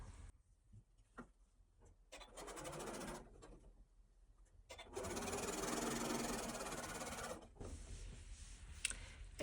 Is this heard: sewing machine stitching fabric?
yes